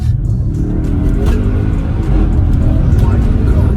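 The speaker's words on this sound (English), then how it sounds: "I'm putting my foot on the accelerator straight away." Audi RS6 tuned to 750 HP pulling hard under full throttle, a loud, steady engine roar with deep rumble filling the whole stretch, heard from inside the car.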